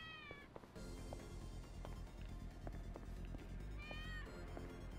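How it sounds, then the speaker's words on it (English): A cat meows twice inside a video game, with rising, wavering cries near the start and again about four seconds in, over a dense, steady bed of game ambience and clatter. "I hear a cat."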